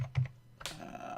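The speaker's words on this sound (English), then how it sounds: "it'd be nice if I could type all the letters today" A few quick keystrokes on a computer keyboard, a short cluster of soft clicks followed by a brief burst of louder taps, close to the microphone and quiet overall.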